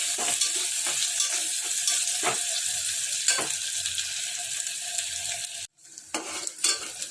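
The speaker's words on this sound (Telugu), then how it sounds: "ఉల్లిగడ్డలు వేయాలి. ఎర్ర కావాలి చూడండి." Onions fry in hot oil for Telangana-style spicy mutton liver, giving a dense, continuous sizzle with stirring scrapes and light utensil clinks. The sizzle briefly drops out near the end, then returns.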